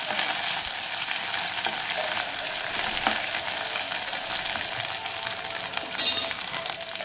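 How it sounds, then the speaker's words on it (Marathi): Ground masala paste sautéed in a pan for a spicy prawn curry, a continuous close sizzle with scraping stir strokes and a brief louder burst near the end, no voices. "हे वाटण चांगलं परतून घ्यायचं।"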